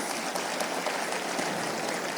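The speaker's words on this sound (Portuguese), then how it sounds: "Será que você pode aplaudir Jesus?" A church congregation applauds in a steady, dense wash of clapping that holds at an even level from start to finish, with no voices standing out.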